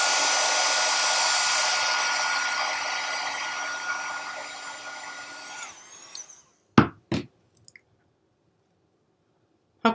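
A heat tool blows a loud steady whoosh onto embossing powder on a card, then shuts off and winds down, followed by a few sharp clicks and handling knocks in near silence.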